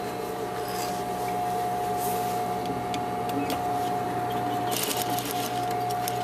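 A sewing machine stitches across a fabric apron seam, running as one steady, unbroken mechanical whir with a constant motor hum, heard up close with no one talking.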